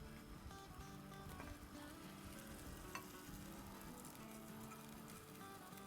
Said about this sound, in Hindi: चले अब इसमें हम अपने आलू डाल देंगे।